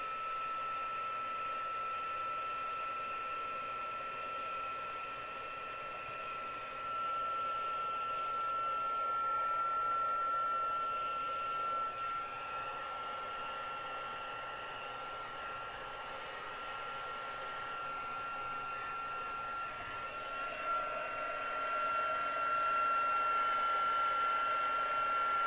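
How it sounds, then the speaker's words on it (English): A handheld heat tool blows hot air to heat set a craft piece, a steady continuous whoosh with a constant high whine, close and fairly loud throughout with no talking. "I'm going to grab my heat tool and I'm going to heat set it"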